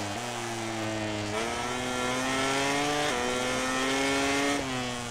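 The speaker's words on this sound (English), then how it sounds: "listen to the motorcycle noises" Motorcycle engines race in MotoGP 18 with a steady, loud high-revving drone that climbs, then drops at each gear shift, repeating in a smooth rhythm with no voices.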